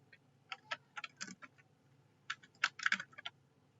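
Keys clack on a computer keyboard as text is entered into PowerPoint WordArt, two short bursts of light, quick taps separated by a brief pause, close and fairly quiet.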